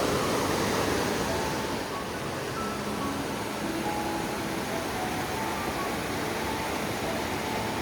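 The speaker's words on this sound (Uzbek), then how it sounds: "Dugobadan kelayotgan soy." A mountain stream coming down from Dugoba in the Shohimardon area rushes past a resort courtyard, a continuous, even wash of water noise with nothing else standing out.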